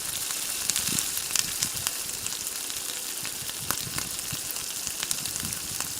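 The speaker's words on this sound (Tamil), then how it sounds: "அதுக்கப்புறம் எடுத்து இப்போ எண்ணெயில் பொரித்து எடுத்துக்கலாம்" Crab pieces deep-frying in well-heated oil for a Tamil-style crab fry, giving a steady, close crackling sizzle with scattered pops throughout, no voices.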